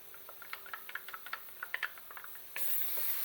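Ginger and garlic frying with onions in a pan for a chicken korma curry: soft sizzle with irregular stirring scrapes and taps, close by, then a sudden louder steady hiss near the end.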